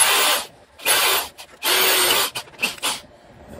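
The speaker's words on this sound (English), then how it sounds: "using a corded drill here. It's a drill. It drills holes." A corded electric drill bores holes in a workshop while CNC linear rails are being built, giving several loud whirring, grinding bursts separated by short pauses, with no voices.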